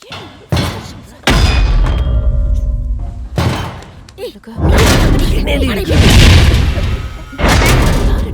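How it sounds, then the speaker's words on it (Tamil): A gate being battered and broken down in a movie scene, several heavy thuds and crashing impacts in bursts, loud and close, mixed with shouting and frantic talk. "அம்மா, என்னடி பாரு, மாமா கேட்ட உடைக்கிறான்"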